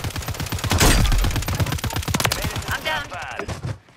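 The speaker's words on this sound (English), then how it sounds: "Get ready to shoot the doorway." Rapid automatic gunfire in Call of Duty, loud, dense bursts of shots with an overlapping voice, easing into scattered sounds near the end.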